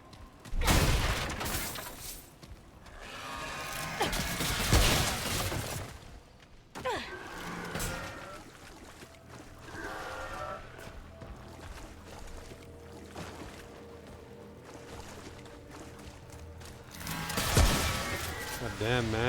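Enemy gunfire in Remnant: From the Ashes, scattered shots and short bursts rising and fading over a rumbling game soundscape, with several loud cracks near the start and end.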